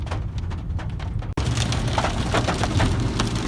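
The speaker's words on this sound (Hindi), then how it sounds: "धूप में बारिश और ओले पड़ रहे हैं, ओले से मोटे मोटे ओले पड़ रहे हैं।" Steady rain mixed with large hailstones falling in sunshine pelts a surface close by, a dense rattling patter with sharper ticks, briefly cut by a dropout before resuming.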